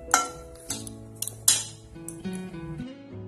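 A spoon stirring sugar into moong dal ladoo mixture in a metal vessel makes a few sharp, close clinks at uneven intervals, with faint ringing tones between strikes.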